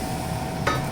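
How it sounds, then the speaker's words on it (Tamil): Semolina is stirred into boiling water in a pot for upma, giving a brief, dense scraping swish over a steady bubbling hiss. "அப்படியே கிளறிடும்."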